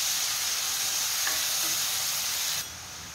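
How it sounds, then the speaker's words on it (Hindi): Finely chopped onions hitting hot oil with mustard seeds and asafoetida for a dhaba-style paneer masala, a loud steady sizzle and hiss that drops off abruptly near the end, with no voices. "अब इसमें फाइनली चॉप अनियन डाल देते हैं और अब इसको ट्रांसपेरेंट होने तक हम अच्छे से पका लेते हैं"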